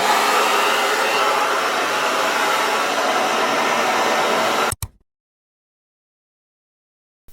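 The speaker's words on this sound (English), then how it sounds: "you attach it onto your blow dryer" A blow dryer with a diffuser-style attachment runs steadily on its first fan and first heat setting, a loud, even airy whoosh that cuts off abruptly near the end, leaving silence.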